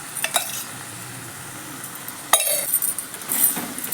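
Small gooseberry pickle simmering in sesame oil over low heat, stirred with a spoon: soft sizzle with a few sharp clinks of metal against the pan, quiet between strokes.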